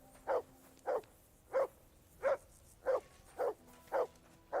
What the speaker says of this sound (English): call off that dog and then we can talk